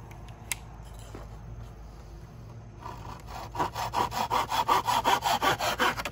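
A handsaw cuts through the end of a northern red oak piece, starting with quiet scraping and building into steady, loud, rhythmic back-and-forth strokes, close by.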